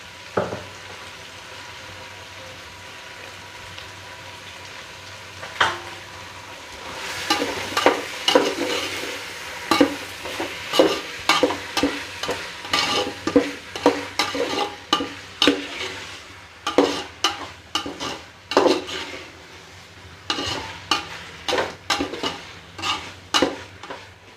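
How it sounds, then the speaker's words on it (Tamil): Tomato sautéing in a pan for vegetable biryani: a steady sizzle overlaid by repeated clinks and scrapes of a spoon stirring against the pan, growing busier after the first few seconds, with no talk. "இப்போ நான் போட்டு இதை வதக்க போகிறேன்."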